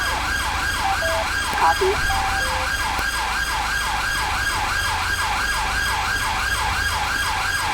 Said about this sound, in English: they do all leave their sirens on, which is a little bit frustrating